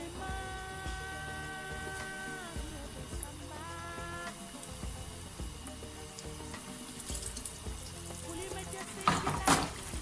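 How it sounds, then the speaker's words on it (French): Aubergines frying in hot oil in a home kitchen, a steady soft crackle and hiss throughout with a few utensil clinks and a brief louder splash of activity near the end, no talk. "Je vais faire frire mes aubergines."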